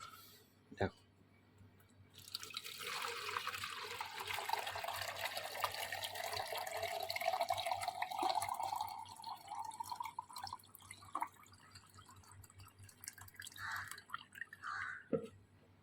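Liquid plant fertilizer for hibiscus strained into a container, a steady trickling pour running for about eight seconds with drips and clicks at the start and end, close by and with no talk over it.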